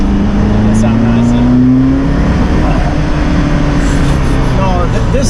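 Engine of a blue Ferrari F40 sports car revving hard with a rising, throaty drone over wind and road noise, loud and close throughout.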